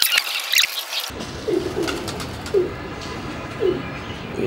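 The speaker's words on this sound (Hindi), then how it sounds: "ये कबूतर है" Pigeons coo several times in a soft, rhythmic series at close range, each low throaty call separated by short pauses, following a brief burst of higher chirps and rustling at the start.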